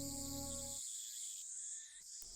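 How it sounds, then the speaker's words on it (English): Cicadas shrill in a steady high drone at a quiet shrine in the game Steins;Gate, with soft game music fading out early and the insect chorus continuing alone throughout. "where the cries of cicadas resound"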